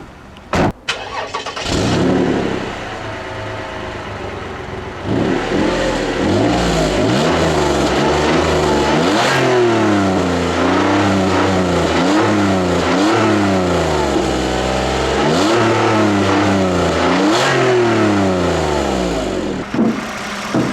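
A 2010 Toyota RAV4's 3.5-liter 2GR-FE V6 engine cranks and starts, then revs repeatedly in several rising and falling bursts, loud and close, before settling back down.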